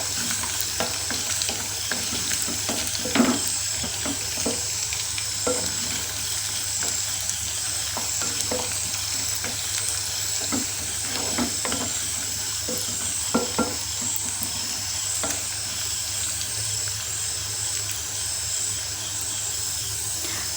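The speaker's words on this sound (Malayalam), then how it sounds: "ഈ വെളുത്തുള്ളി ചെറുതായിട്ടൊന്ന് മൂത്ത് വരണം, അതുവരെ ഇളക്കി കൊടുക്കണേ" Garlic fries in a pan for lime pickle while being stirred, a steady hiss of sizzling oil broken by scattered scrapes and taps of the spoon, close and even throughout, with no talking.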